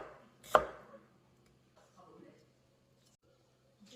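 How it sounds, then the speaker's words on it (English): A knife chops red capsicum on a board in a single sharp, close strike, followed by faint handling noises in a quiet kitchen. "We chop the red capsicum."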